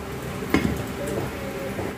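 A cooking pot gets its lid with one clear metallic clink, followed by soft rattles and the low simmer of a Filipino dinengdeng with ampalaya, mushroom and saluyot.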